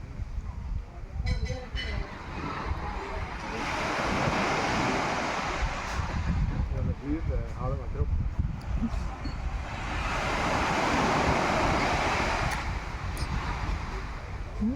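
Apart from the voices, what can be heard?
sea breeze blowing at the beach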